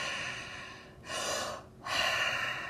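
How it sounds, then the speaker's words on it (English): Heavy, deep breathing as if after exercise: two long, loud breaths, the first rushing in and the second out, close to the microphone and with no talk over them. "Now I am heavy breathing for you."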